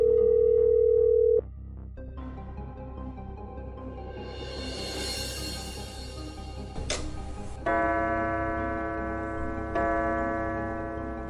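A phone call connecting: a tone, then a short pause, followed by repeated electronic ringback tones heard clearly over faint background.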